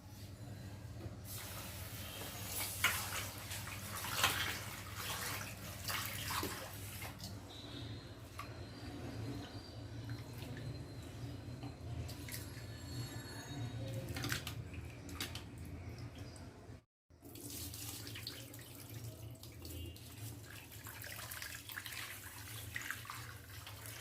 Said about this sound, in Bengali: আগে চাউলগুলো ধুয়ে আমি বসিয়ে দিই